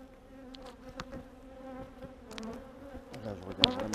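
Honeybees buzz around an open beehive during an inspection, making a steady close hum with passing bees droning louder near the end, and no one speaks.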